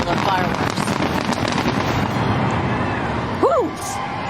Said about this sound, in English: A great fireworks display underway right now. Here is the big finale.